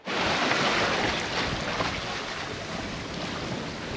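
Sailboat under way on the open ocean on a passage toward American Samoa, in roughly 13 to 14 knots of wind: a steady, loud rush of water and wind washing past, constant for the whole stretch with no voices.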